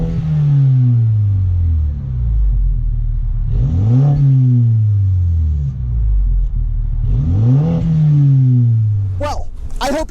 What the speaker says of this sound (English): on to the exhaust.